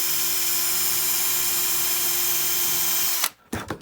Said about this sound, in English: I'm just gonna drill that